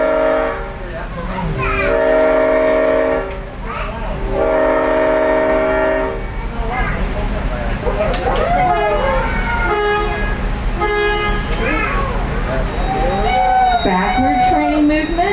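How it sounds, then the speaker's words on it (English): A train whistle sounds in long, loud tonal blasts, at least two distinct toots early on, signalling backward movement near Belton, followed by rumbling railcars and further horn sounds as the train moves off. "You should hear 3 sounds of the whistle to indicate backward"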